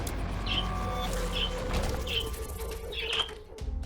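Pet birds chirp indoors, a few short bright tweets repeating at roughly one-second intervals over a low steady background hum.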